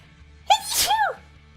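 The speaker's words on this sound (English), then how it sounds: "I was trying so desperately to get through that sentence before the sneeze came." A single close, loud human sneeze bursting out abruptly, with a sharp onset, a brief harsh peak, and a short trailing exhale before the room goes quiet again.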